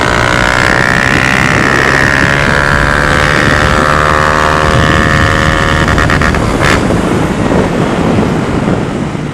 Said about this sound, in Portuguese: o escape bem grave, né?